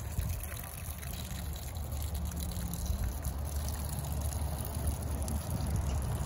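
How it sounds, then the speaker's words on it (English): Water runs out of a pipe and down into a farm dam in a constant trickling gush, a steady close rush with no voices. "It's the first time we've seen water coming out of our pipe."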